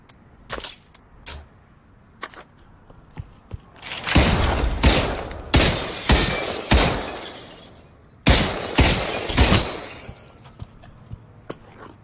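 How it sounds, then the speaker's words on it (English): Glass windows shattering in the VR shooter Pavlov VR, several loud separate bursts of breaking glass with crashes and tinkling debris, spaced by quieter gaps and a few sharp clicks. "Broke your windows, guys."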